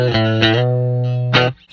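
Distorted electric guitar through a Line 6 DL4 MkII delay and looper pedal, two or three sustained chords ringing with a thick, juicy fuzz and a short stop at the end.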